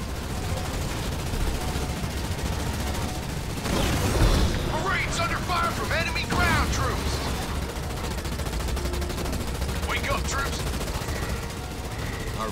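Bursts of gunfire and booms from enemy ground troops in a war video game, distant machine-gun fusillades and explosions in a continuous noisy battle bed, with voices talking over it.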